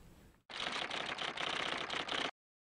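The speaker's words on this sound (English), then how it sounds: "The clatter of typewriters in Bendlerstrasse come to a halt" Typewriters clatter in a busy office in a dense, rapid, continuous burst of key strikes that starts abruptly, runs loud and close for nearly two seconds, then cuts off into silence.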